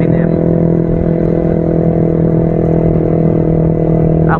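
A Yamaha XSR 155 motorcycle engine runs steadily and loud close by, a constant droning hum with layered tones and no clear revving, heard alone.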